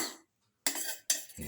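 A spoon mixes a garlic, bottle gourd and carrot yogurt casserole topped with curry leaves, producing two short bursts of scraping and clinking against the bowl, separated by a brief silence.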